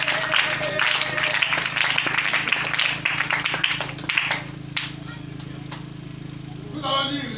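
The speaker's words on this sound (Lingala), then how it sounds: "Acclame les gens." A congregation at a Sunday church service claps and applauds, a lively burst of clapping that tapers off over several seconds, with voices audible toward the end.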